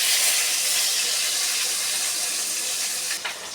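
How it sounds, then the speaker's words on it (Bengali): Rohu fish pieces fry hard in hot oil in a home kitchen, giving a steady loud sizzling hiss that runs nearly the whole time and eases off near the end, with no talking. "মাছগুলো আমি এরকম কড়া করে ভেজে নিচ্ছি।"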